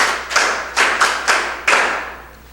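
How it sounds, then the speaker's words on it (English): Audience applause at a school quiz competition: several short bursts of hand clapping, each sharp at onset and trailing off, fairly close and loud, with no talking over them. "A round of applause for him."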